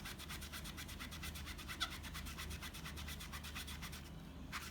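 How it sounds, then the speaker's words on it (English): Steady rhythmic rubbing of a Magic Eraser against an anime figure's apron to lift a stubborn mark, close and continuous with even back-and-forth strokes, no voices. "I'm just gonna try to rub it off."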